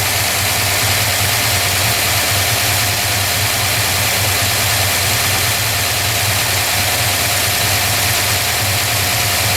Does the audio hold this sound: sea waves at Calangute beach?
no